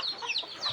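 Chicks and hens in a small chicken-rearing room, a brief burst of high, chirpy peeping and soft clucks, fairly close, with no voices.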